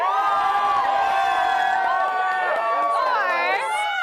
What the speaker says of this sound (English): Cheer the loudest for who you thought won